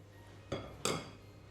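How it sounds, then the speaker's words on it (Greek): A spoon knocks twice against a bowl while a flour mixture for Politiki vasilopita is stirred, two quick clinks close by over a quiet background. "Ανακατεύω."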